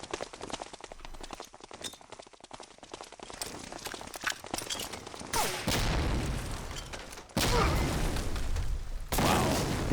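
Grenades burst amid gunfire in a Medal of Honor: Allied Assault multiplayer sniper match: a rapid clatter of shots and footsteps, then two loud blasts that each leave a dense roaring wash, with a voice faintly underneath.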